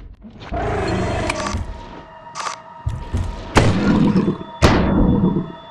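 Shotgun blasts in Lethal Company, several heavy booming shots in quick succession, each with a sharp attack and a lingering tail, close and loud.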